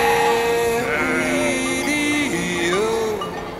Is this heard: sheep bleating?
yes